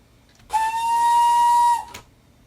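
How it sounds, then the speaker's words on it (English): A custom steam whistle on a Hudswell Clark contractors tank engine in Train Sim 2021 gives one loud, sustained, steady blast of about a second and a half, then cuts off sharply. "like the Peckett, he had a custom whistle before. So let's take a little listen to that"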